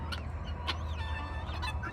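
Turkeys gobble in short bursts, faint and somewhat distant, over a low steady background hum outdoors near stacked lumber.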